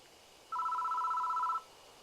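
A telephone rings in the Nintendo Switch visual novel game Death Mark, one steady electronic ring about a second long, clear and alone against a quiet background.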